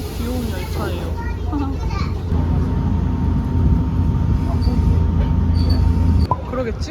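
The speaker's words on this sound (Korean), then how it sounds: "되게 작고 귀여운 열차예요." Small Randen streetcar running through a Kyoto neighborhood, a steady low rumble and hum throughout with a faint tonal whine, ending in a brief clunk near the close; voices are heard in the background.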